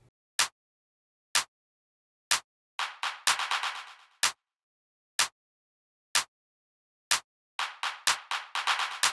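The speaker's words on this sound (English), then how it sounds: "This clap is also a bit tricky since there are parts where the delay turns on" Clap sample processed with Fruity Delay 3 in FL Studio hits in sharp, isolated beats roughly once a second, with some hits trailing into quick repeating delay echoes that decay rapidly, alone against silence.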